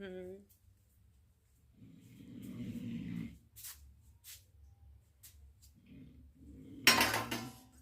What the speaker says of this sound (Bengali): এই বড় থালটা ঢাকা দিই, তাহলে বেশি ভালো ঢাকা থাকবে